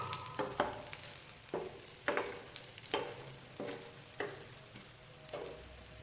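Potato cutlets filled with chicken frying in oil over a medium flame, a steady close sizzle broken by regular stirring or turning scrapes about every second, with no talking.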